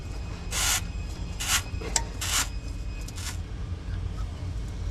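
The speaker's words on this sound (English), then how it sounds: "we'll go ahead and get the oil filter popped off." Oil filter being worked off a Takeuchi TB2150 compact track loader: a few short, rasping scrape bursts rise over a steady low rumble from the running machine.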